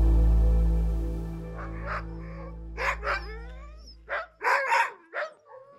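Sled dogs at a sled dog center above the Arctic Circle in Lapland, a pack barking, yipping and howling in uneven bursts after a fading low rumble, fairly close and loud, no talk.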